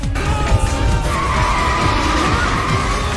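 A car skids as a zombie crashes into a kidnapper's car, a loud sustained tire screech over rumbling engine and road noise, with a sharp hit at the start.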